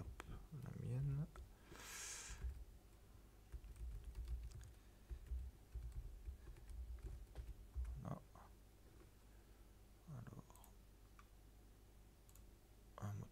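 Someone types an email address on a computer keyboard, making quiet, close, irregular key clicks in short bursts. A person speaks softly at times.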